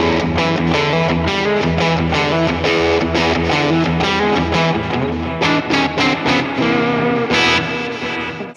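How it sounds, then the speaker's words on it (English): Electric guitar played through a Vox amp preset with hall reverb on a Fender Tone Master Pro, a loud distorted run of strummed chords and riffs with long reverberant tails and choppy stabs toward the end. "That's a Vox in a hall reverb."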